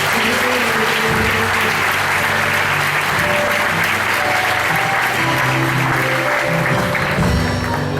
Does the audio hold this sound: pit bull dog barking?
no